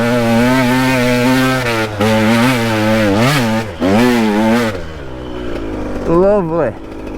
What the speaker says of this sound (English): 2-stroke.